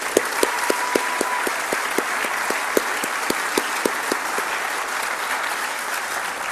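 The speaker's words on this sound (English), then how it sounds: "Let's give Jeff a round of applause." A crowd at a humanitarian award presentation claps for the winner, with a few distinct, evenly spaced claps standing out over a continuous wash of applause that gradually thins.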